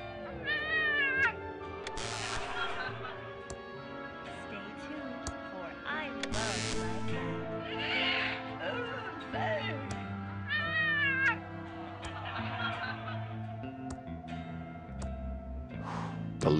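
Repeated cat meows from a TV channel inside the video game Thimbleweed Park, several drawn-out calls spaced across the stretch over steady background game music, clear and fairly close.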